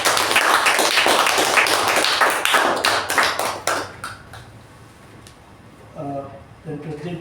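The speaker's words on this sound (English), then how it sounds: "I think we should give a special round of applause for the great job done." A round of applause at a club meeting, brisk clapping for about four seconds that thins out into scattered claps, then a voice starts talking.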